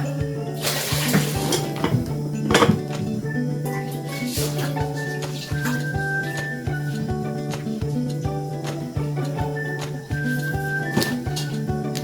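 Milkfish paksiw broth bubbling in a pot, a steady bubbling hiss with occasional clinks and stirring knocks of a utensil against the pot, close and continuous for the whole stretch.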